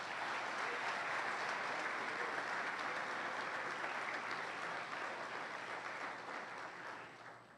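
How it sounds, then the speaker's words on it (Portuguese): A church congregation claps in praise during a worship service, a dense, even wash of applause held steadily for several seconds at moderate distance, easing slightly near the end. "Aplaude e glorifique o Senhor"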